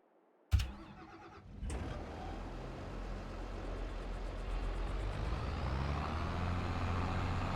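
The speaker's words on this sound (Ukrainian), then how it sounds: "Тракторець." A tractor engine in the video game Farming Simulator 22 starts with a sudden bang and a brief crank, then settles into a steady, gradually building mid-pitched rumble, heard alone without talk.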